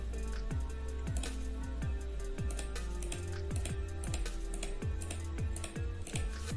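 Computer keyboard keys are tapped again and again during a software debugging session, a busy run of close clicks under a steady low hum with no talking.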